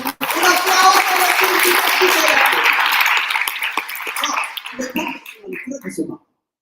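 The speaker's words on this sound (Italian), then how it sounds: "Un applauso" Audience at an Italian book presentation in Cagliari claps loudly for several seconds, the applause thinning into scattered claps before stopping abruptly.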